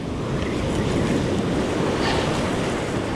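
Rough ocean surf on a fishing beach, a continuous loud wash of breaking waves mixed with gusty wind buffeting the mic, no voices.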